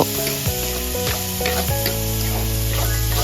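Rice is stirred in a pan with fried shallots and oil for a steady, loud sizzle and frying hiss, with scraping stir strokes throughout and a low hum underneath.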